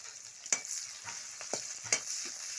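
Onions fry in oil for a pakudi curry, giving a quiet, hissing sizzle with a few distinct scraping stirs of a spoon at irregular moments.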